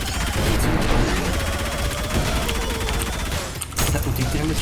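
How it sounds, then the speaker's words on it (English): The drill variant of the rail cannon fires in ULTRAKILL, a dense, continuous grinding barrage of gunfire-like bursts under constant game noise. "I'm going to use the drill variant of the rail cannon in order to stick the screwdriver into my area."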